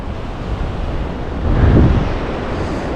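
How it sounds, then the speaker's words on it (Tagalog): Sea surf breaking on the shore at a Saraya Island campsite in Ras Al Khaimah, a steady washing roar under strong wind buffeting the microphone, with one fuller wave swelling near the middle. "Dagat naman sa harap."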